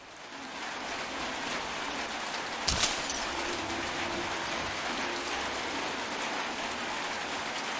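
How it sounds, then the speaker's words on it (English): Steady rain patters on a tin roof in Metro Exodus, a dense continuous hiss of drops with one sharper knock partway through. "hearing the rain on the tin roof"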